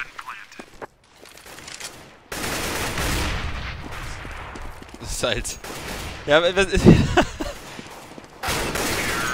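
Rapid gunfire bursts from a Counter-Strike esports match on the de_dust2 map, after the bomb is planted, clustering into loud volleys near the middle and end, under excited German commentary.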